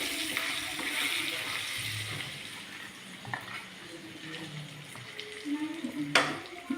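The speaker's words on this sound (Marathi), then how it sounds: "मस्तपैकी फ्राय करू द्या 2 मिनिटं." Food frying in a pan, a steady hissing sizzle with occasional sharp pops and stirring scrapes, close and fairly loud, with a person talking briefly at times.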